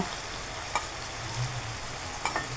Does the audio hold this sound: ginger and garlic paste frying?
yes